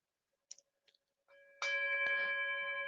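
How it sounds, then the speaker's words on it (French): A meditation gong rings out after a few faint taps, its bright metallic tone swelling quickly and then sustaining in a long, steady shimmer with clear overtones. "je vous propose de faire tinter le gong"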